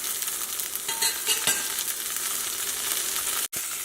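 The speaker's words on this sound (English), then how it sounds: "Frying nicely, so give it another minute or so." A cod fillet sears in a hot pan, giving a steady, close sizzle and crackle throughout with one brief dropout near the end.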